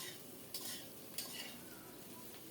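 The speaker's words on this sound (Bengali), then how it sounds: "হাফ চামচ গুঁড়ো মরিচ দিয়ে দিলাম নেড়ে চেড়ে সুন্দর করে কষিয়ে নিয়েছি" A spoon stirs chili powder into a sizzling curry in a pan, with continuous frying crackle, two brief scraping strokes, close up and without speech.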